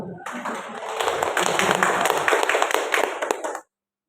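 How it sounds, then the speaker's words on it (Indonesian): A group in an Indonesian classroom or school gathering claps hands together in a dense burst of applause that lasts about three seconds and then stops abruptly. "Tepuk tangan dulu dong"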